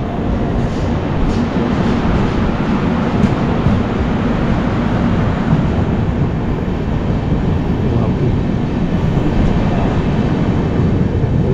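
A steady, loud rumble and rattle of a moving train heard from inside a first-class AC carriage near Vapi station, continuous throughout with no talking.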